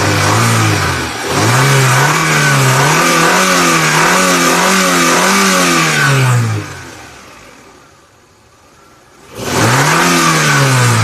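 A 1.6-litre Nexia car engine revs up loud and close in repeated rising and falling surges, drops away to near quiet for a moment, then roars back up.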